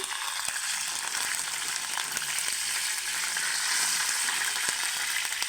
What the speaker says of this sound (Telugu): అదే ఆయిల్లో నాలుగు రెబ్బల కరివేపాకు కొంచెం ఫ్రై చేసుకొని వేసుకుంటే టేస్ట్ చాలా బాగుంటుంది